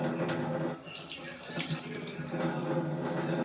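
Water runs steadily from a household tap into a sink, a close, continuous splashing gush lasting the whole stretch, with no pauses.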